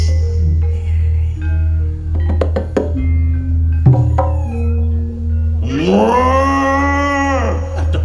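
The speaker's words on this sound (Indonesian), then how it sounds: "Sapi." A cow moos near the end, a long loud tonal call rising and then falling over about two seconds, after a stretch of voices and musical, clattering background sounds.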